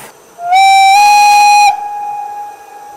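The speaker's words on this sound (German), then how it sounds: "Da pfeift es auch wieder aus der Pfeife. Ich zeig das nochmal. Ein Kurzpfiff." A gauge 1 (1:32) model class 59 steam locomotive gives a short, loud, steady whistle blast lasting about a second, trailing into a softer sustained tone.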